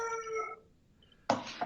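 A dog barks indoors, loud and close: a howling, whining vocal tone at the start, then a pause and two sharp bursts near the end.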